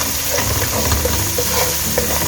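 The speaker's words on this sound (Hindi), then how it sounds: "सॉल्ट को हल्का सा चलाएंगे हम" Beetroot with red chili, turmeric and salt being stirred in a pan, a steady sizzle of frying under soft scraping strokes, close and continuous with no talk.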